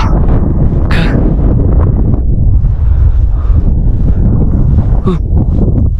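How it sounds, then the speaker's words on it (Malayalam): Strong mountain wind on the Annapurna Base Camp trek roars and buffets loudly and continuously at close range, with a couple of brief gusty bursts. "നല്ല കാറ്റ് വീശുന്നുണ്ട്."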